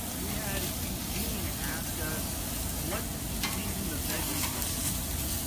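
Herb-seasoned chicken drumsticks and thighs sear in a pan with a constant close sizzle and crackle, while people talk over it.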